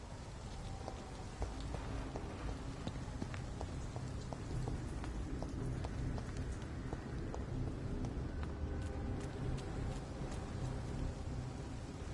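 Steady rain falls in the video game Vampyr, a dense, even patter of drops on surfaces, continuous and fairly soft, with no voices.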